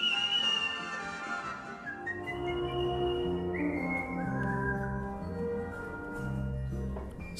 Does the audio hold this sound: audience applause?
no